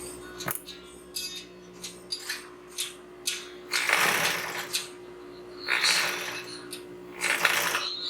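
A sewing machine stitches the edge of a fabric drawstring pouch, with short ticking starts early on, then several longer loud whirring runs of stitching with brief pauses between them.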